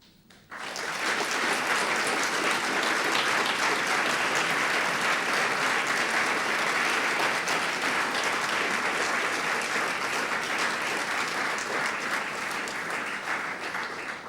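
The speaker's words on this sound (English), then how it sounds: "This is your opportunity now to applaud them to show your appreciation for their support" A graduation audience at the University of Manchester's UMIST breaks into applause after a brief quiet moment, then sustains loud, dense clapping throughout, steady in a large hall.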